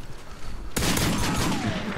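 Rapid pistol gunfire in a video game, a P99 and a Magnum traded in a pistol-only match, bursts in abruptly after a quiet start and keeps going as a loud, dense run of overlapping shots.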